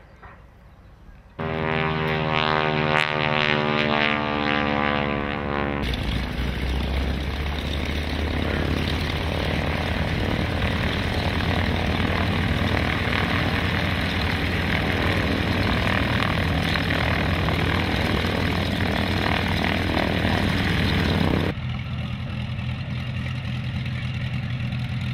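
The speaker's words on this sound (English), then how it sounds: "We have the aforementioned Piper Cub coming in." A Piper Cub light aircraft flies in to land at Dunsfold Wings & Wheels 2005, its propeller engine droning loud and steady for most of the clip, with a rising whine at first and the noise dropping off near the end.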